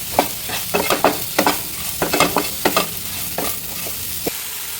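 Soya chunks tossed with masala in a hot pan, a spoon scraping and stirring in repeated close strokes over a steady frying sizzle, with no talking.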